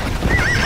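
A horse in Red Dead Redemption: Undead Nightmare gives a short, loud, wavering whinny that rises over a brief low rumble of hooves and game ambience.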